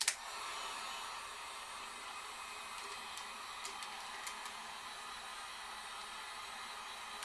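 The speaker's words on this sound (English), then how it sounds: "if your heat gun is too hot, you can control it" Heat gun blowing onto a shrink wrap fitted over a 20oz skinny sublimation tumbler, giving a steady, fairly quiet, continuous airy hiss with a few faint ticks, sustained without pause.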